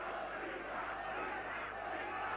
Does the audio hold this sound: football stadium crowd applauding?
yes